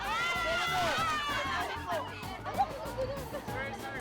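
Shouting crowd at actor Richard Gomez's campaign stop in Laguna, a dense babble of many excited voices and cheers close by, with clapping mixed into the continuous noise.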